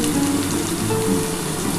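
Potatoes fry in a pan with salt and turmeric, giving a steady, close, even sizzle and crackle with no talking.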